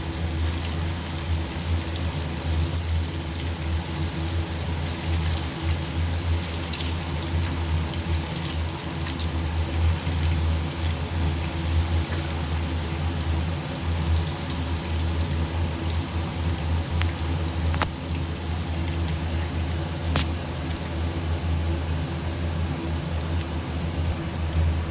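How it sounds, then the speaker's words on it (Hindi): Manchurian balls deep fry in hot oil until golden, a dense, steady sizzle and bubbling hiss continuing without a break throughout, with no talking. "ये इनका कलर जब तक गोल्डन नहीं होता, हम उस समय तक इन्हें फ्राई करेंगे।"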